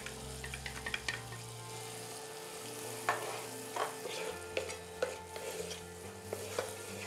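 Turmeric powder is stirred into sizzling butter in a pan, a soft continuous fry hiss with quiet scraping stir strokes repeating through it, fairly close and low in volume.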